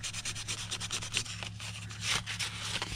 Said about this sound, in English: Let me get a real light sandpaper.